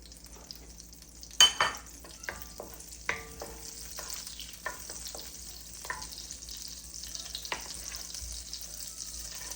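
Olive oil and butter heating in a pan give a steady, close hiss of sizzling, broken by a few light clatters and taps of a utensil against the pan.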